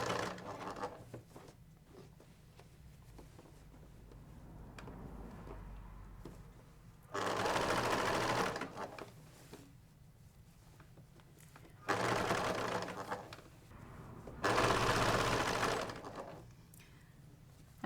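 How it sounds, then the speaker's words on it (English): A sewing machine stitching the corners of a piped box cushion cover, three loud whirring runs of several seconds each, close up, separated by quieter stretches with someone speaking. "If you stitch the corners just as I've shown you, you'll end up with beautifully piped corners like that."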